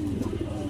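Racing pigeons in a loft give a brief, low, throaty coo, heard up close.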